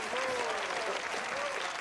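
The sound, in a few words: applause at a banquet in Beverly Hills Cop 3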